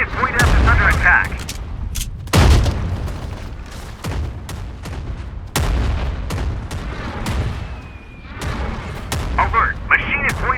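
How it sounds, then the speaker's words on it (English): Enemy mortar fire pounds in an online squad shooter game, several loud booming impacts and sharp blasts at irregular intervals, mixed with in-game alert voice announcements. "Enemy mortar fire."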